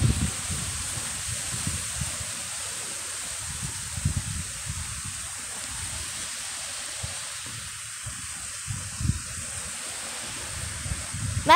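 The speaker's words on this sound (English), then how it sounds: "It's so windy that I can't even concentrate." Strong wind blowing outdoors, buffeting in uneven low rumbling gusts with a rustling, rushing hiss throughout, loud and close, with no speech.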